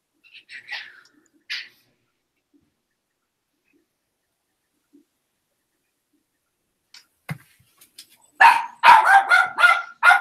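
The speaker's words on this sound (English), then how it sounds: "my dog keeps barking" A dog barks indoors, first a couple of brief distant yaps, then a close, loud burst of several rapid barks at the end, with quiet gaps in between.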